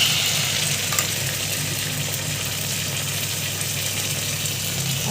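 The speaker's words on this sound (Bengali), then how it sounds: "দেখো মোটামুটি ভাজাটা হয়ে গেল পেঁয়াজটা" Chopped onion frying in a pan, a steady broadband sizzle that holds constant and close throughout, with no talk over it.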